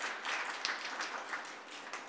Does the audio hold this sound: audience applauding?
yes